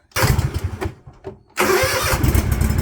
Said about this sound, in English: Let's get a little Toro cold start action.